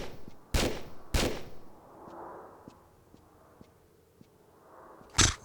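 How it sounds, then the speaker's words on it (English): Two loud, sharp pistol shots in the Tomb Raider game, fired at a wall at close range, followed by faint ticking and a low rumble, then another sharp burst at the end. "I think I was like actually shooting on the wall."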